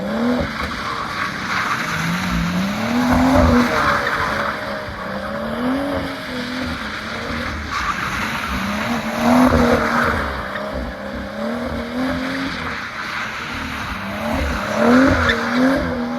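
A BMW M240i with a limited-slip differential drifts nearby, its engine rising and falling in long revving sweeps while tires squeal and skid continuously, loud and close without any talking.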